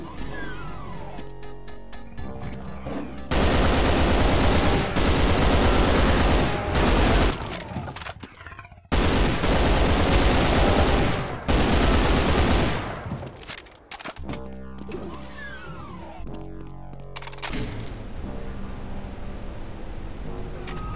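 Rapid SMG fire from the video game Brutal Doom, loud and sustained bursts of automatic gunfire with brief gaps, quieter game ambience between volleys.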